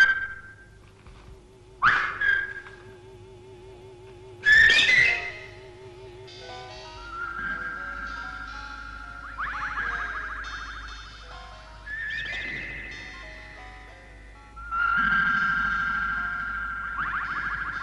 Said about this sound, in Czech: 3krát pískněte.